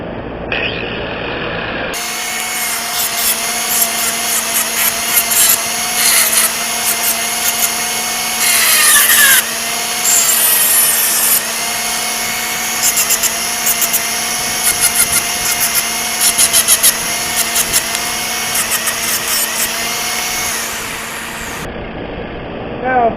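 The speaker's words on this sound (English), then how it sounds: "Right now I'm just smoothing it up with this grinder wheel." A grinder wheel whines steadily against a cold air intake pipe, a loud, continuous high-pitched grinding with short bursts of harsher scraping near the middle, under occasional talk.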